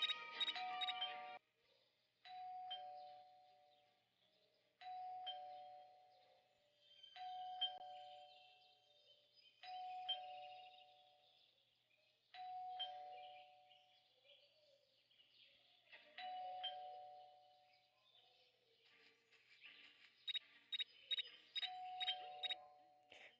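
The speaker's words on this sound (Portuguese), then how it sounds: "Por mais que eu toque essa campainha, ela não desce." A video game doorbell rings repeatedly, a soft two-note electronic chime recurring roughly every two to three seconds at low volume, with brief bright game chirps at the start and end.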